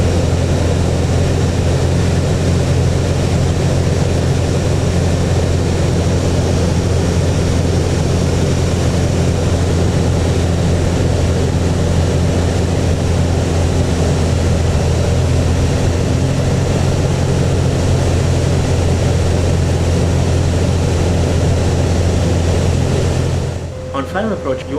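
A Mooney M20C propeller plane drones steadily in flight with a loud, continuous engine hum and propeller rumble that stays unbroken until it cuts off abruptly just before the end.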